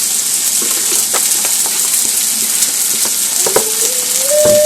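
Diced potatoes fry home-fries style in a casserole pan, giving a steady, loud sizzle with scattered crackles and a few stirring clacks; no one speaks.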